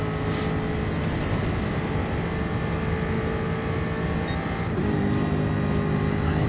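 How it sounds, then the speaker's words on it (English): A Jaguar race car in the GT Sport racing game holds a loud, continuous engine drone, its pitch stepping as it shifts up into top gear, with no voices. "Into top gear goes the Jaguar."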